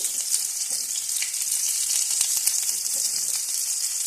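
Dried red chilli sizzling in hot mustard oil makes a bright, steady, close hiss with faint crackles and only light, sparse stirring.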